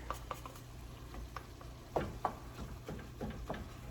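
Cottage pie filling of beef with beef base being stirred in a pan, repeated scraping and tapping strokes of a utensil over a low simmering sizzle, close and fairly quiet, with no talking.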